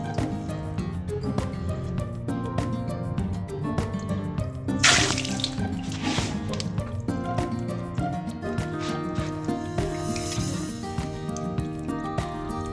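Water bursts hard from an opened valve on a household water pump, a continuous splashing, gurgling gush with bubbly drips and a louder surge partway through, steady and close throughout.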